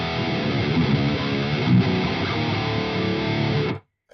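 Distorted electric guitar played through a Neural DSP Bogren amp simulator with two cabinets active, a dense, dark, heavily saturated riff ringing steadily for about four seconds before cutting off abruptly.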